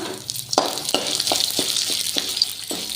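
About ten garlic cloves roasting in a pan give a steady, close sizzle alone, with regular scraping taps from stirring roughly every half second.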